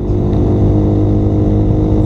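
A Suzuki Raider 150 carbureted motorcycle revs hard during break-in, a loud, close, sustained engine drone with a steady growl and no talking.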